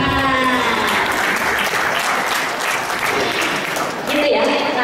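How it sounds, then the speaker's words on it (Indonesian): Audience at a citizen journalism talk show and workshop applauding, a dense, steady wash of clapping throughout with a voice faintly over it. "Ayo mas Geng, tepuk tangan."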